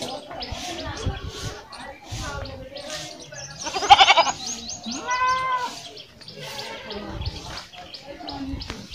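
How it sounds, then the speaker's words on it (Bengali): A goat on a village road lets out a couple of short, nasal bleats midway, fairly close, while a person keeps talking over the scene. "এ দেখুন একটা ছাগল"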